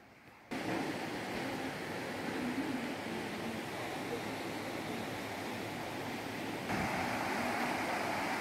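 A waterfall at Aşıklar Şelalesi near Dikili flowing with a steady broadband rush of water, continuous and fairly faint, starting abruptly and holding even throughout.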